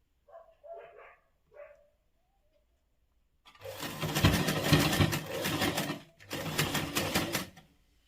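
A sewing machine stitches through three or four stacked layers of fabric to form a frill, running loudly in two bursts of rapid whirring after a few faint sounds and a quiet gap.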